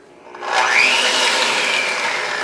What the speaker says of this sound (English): I'll grab my mixer.